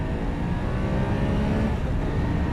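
A BMW F850GS motorcycle accelerating in 6th gear from 60 to 100 km/h, with a continuous engine drone and wind rush at a steady loudness for a few seconds.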